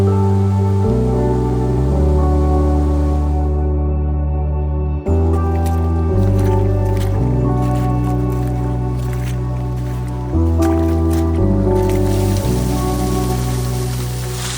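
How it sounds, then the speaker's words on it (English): A small outdoor waterfall gives a steady, loud rush of water that fills the whole stretch without break, under sustained tonal sounds and with no talk. "We've even got a bit of a waterfall."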